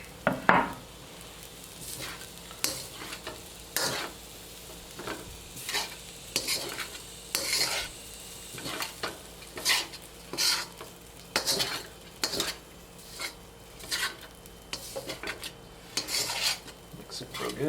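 Blue crab fried rice being stir-fried in a pan with cilantro, chile, green onions and basil, heard as a continuous sizzle under repeated scraping and clanking strokes of a utensil against the pan, with no talk.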